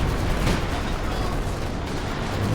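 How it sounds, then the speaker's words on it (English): Dense, rumbling battlefield din from a WWI video game, with artillery fire and gunshots merging into a constant heavy roar. "Some artillery also."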